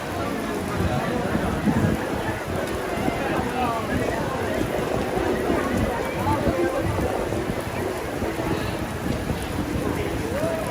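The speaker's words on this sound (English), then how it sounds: "That was quite a lot of rain." Heavy rain falls on a Manhattan street in June, a dense, steady hiss and patter of drops on pavement with faint splashes throughout.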